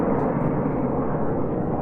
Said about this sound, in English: That's an F-15E Strike Eagle.